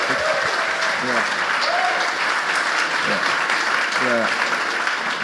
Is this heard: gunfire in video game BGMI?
no